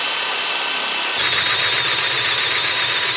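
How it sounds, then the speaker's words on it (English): A power drill bores into a cast iron part of a Monarch 10EE lathe, starting up partway through and then grinding steadily with a high, scraping whine, close and loud. "So drilling in cast iron here"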